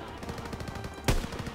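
Gunfire from the Call of Duty WW2 video game campaign: a quiet, rapid rattle of shots with one sharper, louder burst near the end, heard at a distance.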